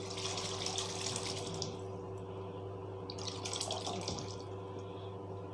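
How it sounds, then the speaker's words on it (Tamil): Dal water being poured into a pot of paruppu sambar in a kitchen, a continuous close splashing pour with gurgling liquid, rising in two bursts, no talk. "இப்போ நம்ம அந்த பருப்பு தண்ணி சேர்த்துக்கலாம்."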